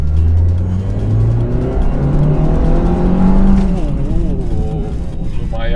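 Small Nissan March Nismo hatchback with a 1500cc engine revving hard as it accelerates, a steady loud engine drone climbing in pitch with people talking over it inside the car.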